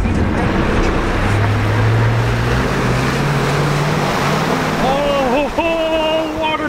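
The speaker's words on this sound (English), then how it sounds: "Oh man, it's gonna splash everywhere, isn't it?" Loud continuous rush of water and engine roar as a lifted truck pushes through deep flood water, broad splashing wash throughout, with a voice speaking near the end.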